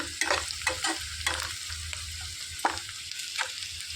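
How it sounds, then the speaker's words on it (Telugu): Boiled ivy gourd fries in oil with chili powder on a low flame, a soft steady sizzle broken by repeated spatula scrapes and taps at an uneven rhythm, no talking. "స్టవ్ సిమ్లో పెట్టుకొని మంచిగా వేయించుకోవాలండి ఈ నూనెలో"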